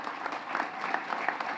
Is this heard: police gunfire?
no